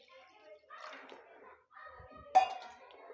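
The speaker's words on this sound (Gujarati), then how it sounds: "એક ગ્લાસ જેટલું પાણી નાખશું" Water is poured from a glass into a pan of urad dal cooking with gram flour paste and tomato on a gas stove, a faint splashing pour in short bursts with light clinks of the pan.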